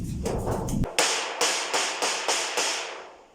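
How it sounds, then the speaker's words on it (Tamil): A nail is hammered by hand while a door is being built: a few soft rustles, then five sharp, ringing metal strikes spaced about half a second apart, each decaying before the next, fairly close with no voices. "ஆணி அடிங்க அந்த ஆணி அடிங்க அந்த ஆணி அடிக்கலாம்"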